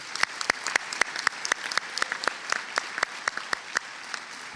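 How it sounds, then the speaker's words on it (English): Audience applause at a high school scholarship awards night, honoring students after a national anthem performance; steady dense clapping from a sizable crowd with sharp individual claps standing out, sustained throughout. "How about a round of applause for our amazing students?"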